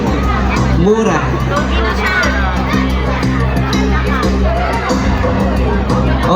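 A noisy crowd at a public market contest in Pugo, a dense continuous babble of many voices and chatter, close and loud throughout.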